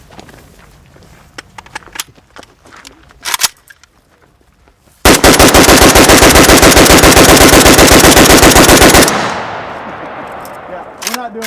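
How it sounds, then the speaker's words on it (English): A Century Arms VSKA rifle fires a full magazine in one rapid, loud, unbroken string of shots lasting about four seconds, with scattered clicks and handling noises before it and a fading ring after it. "We're just trying to shoot the rifle."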